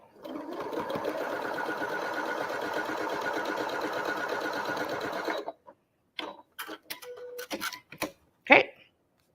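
A sewing machine stitches steadily along a marked line on a quilt block for a mosaic star pattern, a continuous close whirring run of about five seconds, followed by a few short clicks and handling noises.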